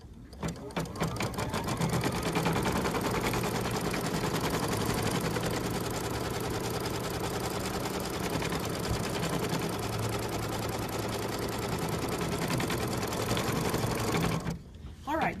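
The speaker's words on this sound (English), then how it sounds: "Now it's going to stitch out the J." Embroidery machine stitching out an applique placement outline runs continuously and loudly with a fast, even mechanical chatter from start to finish, then briefly stops near the end.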